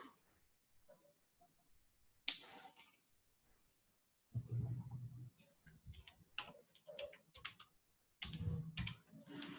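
Typing HTML code on a computer keyboard, with bursts of quiet close keystrokes and clicks broken by short pauses, no voices.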